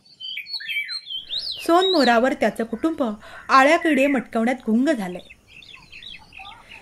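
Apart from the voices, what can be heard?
Indian golden oriole call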